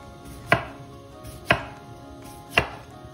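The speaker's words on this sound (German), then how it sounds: "danach werden sie ebenfalls in Scheiben geschnitten" Three sharp, evenly spaced knife cuts through tomatoes being sliced on a board for a Spanish tortilla, each a crisp close chop with a brief tail, no speech.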